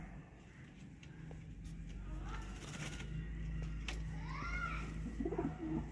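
Pigeons coo softly in low, rolling calls, with faint chirps and light background noise around them.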